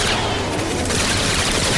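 Dense gunfire from a Planetside 2 alpha build at an E3 live stream, a loud continuous barrage of rapid shots filling the whole moment without pause, with no talk over it.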